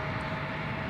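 A British Airways airliner taxis for takeoff at San Francisco International Airport, its engines making a steady, even jet rumble with a whining tone that holds unchanged through the short moment.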